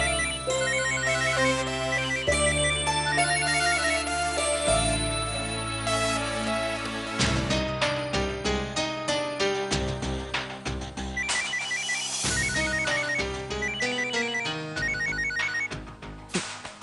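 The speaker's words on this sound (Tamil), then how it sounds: "கிருஷ்ணா ப்ளீஸ்டா ஃபோன் எடுடா." A mobile phone ringtone plays loudly and continuously as a melodic electronic tune with layered notes and rhythmic pulses, ringing on without pause in a dramatic indoor scene.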